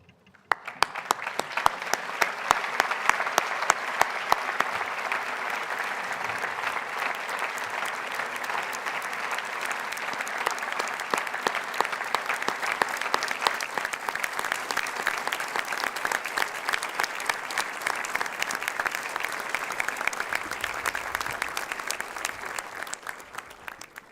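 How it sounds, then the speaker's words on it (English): A large audience applauding at a graduation closing ceremony, dense sustained clapping that swells and holds for over twenty seconds in a big hall, with no talk over it. "join me in giving your family and loved ones a loud and heartfelt round of applause"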